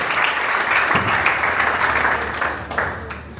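A church audience applauds to welcome someone speaker at a gathering, with dense steady clapping from many hands continuing throughout, close and fairly loud.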